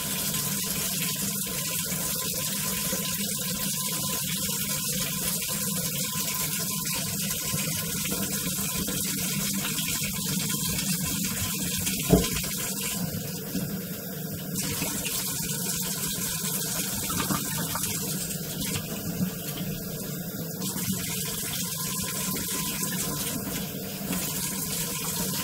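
Tap water runs steadily into a sink while old dump bottles are washed, a continuous close gushing with faint clinks and handling noises throughout.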